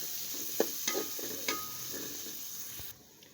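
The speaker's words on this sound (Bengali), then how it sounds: "পেঁয়াজ কুচি দিয়ে দিছি, নাড়াচাড়া করে নিব," Chopped onions fry in a pan while being stirred, a faint steady sizzle broken by several light scraping clicks of the spoon at irregular intervals, close and without talk.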